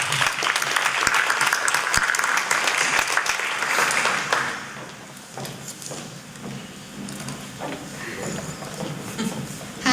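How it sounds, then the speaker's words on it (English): An audience at a high school startup pitch competition gives a round of applause that stays loud for about four seconds, then drops to scattered claps and murmuring crowd noise. "Let's get a round of applause."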